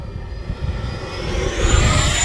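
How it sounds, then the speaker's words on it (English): FMS F-86 Sabre 80mm RC electric ducted fan jet flying overhead, a rising turbine-like whine and rushing roar that swells louder toward the end, with no talk. "This thing sounds like a real jet."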